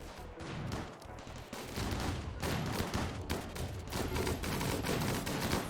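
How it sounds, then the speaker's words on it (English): Turrets fire in the colony-building game Rimworld, a dense rapid barrage of gunfire bursts that goes on with only brief gaps, with no talk. "And now the turrets are going boom."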